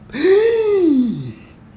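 A single short, breathy gasp with a rising then falling voiced pitch, close and clear, alone against quiet.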